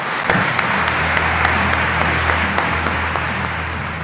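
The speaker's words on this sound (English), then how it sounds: "join me with a warm welcome and applause for a property assessor" Sustained audience applause welcoming a property assessor at a real estate event in Orange County, Florida, steady dense clapping from a large crowd holding at an even level throughout.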